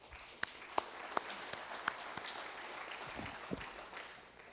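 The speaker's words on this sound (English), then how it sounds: "give yourselves a round of applause" Students in a meeting room give brief, faint applause, a handful of scattered claps sounding at a distance and thinning out quickly.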